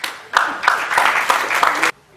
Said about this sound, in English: you deserve a round of applause and some sweets